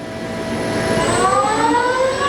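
Spindle of a TRAK 18 by 40 inch flat bed CNC/manual lathe model TRL 1840SX, 6-jaw chuck running as 3-jaw, whirring steadily in high range at 500 RPM, a quiet tonal hum with a whine rising in pitch partway through.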